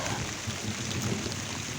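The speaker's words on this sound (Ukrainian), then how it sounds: "І дощ іде, і сонце світить" Rain falling in a Poltava region village garden, a steady dense hiss and patter without pause, close and even.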